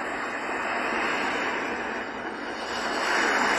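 Steady broadband wash of ocean waves from a HoMedics white noise sleep sound machine, a constant loud surf-like hiss with no distinct breaks, alone without talk.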